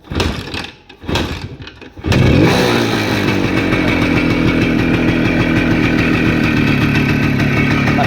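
A Voskhod motorcycle engine sputters through a few kick attempts, then catches and settles into a loud, steady idle close by.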